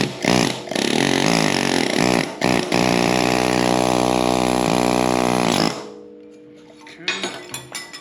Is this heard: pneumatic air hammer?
yes